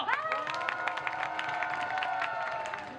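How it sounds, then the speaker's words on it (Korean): Outdoor audience at a Coming-of-Age Day fan event at Deoksugung Palace applauding and cheering for a K-pop group, a steady, fairly faint wash of claps and shouts with voices mixed in. "다시 한번더 첫 번째 곡 너무 잘 들었다고 박수 한번 주세요"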